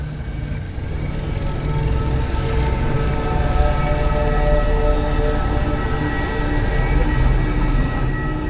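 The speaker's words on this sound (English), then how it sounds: "I've seen primitive trains like this in old ruins." A primitive train rolls past in the Destiny 2 game world, a loud, continuous rumble of wheels and carriages that holds steady throughout with no speech.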